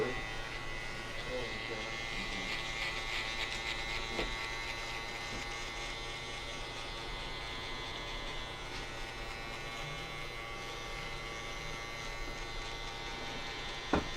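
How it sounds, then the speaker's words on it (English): An Andis outliner hair trimmer buzzes steadily throughout a barbershop cut, a continuous electric hum with faint bursts of background talk. "I like to use this Andis outliner because I was able to get it adjusted with my seniors so they blend in nice and even together"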